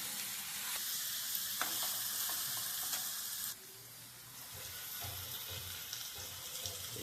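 Sautéed okra sizzles in a tomato tamarind gravy with chilli powder and turmeric while being stirred, a loud, close, continuous bubbling sizzle with scraping stirs throughout.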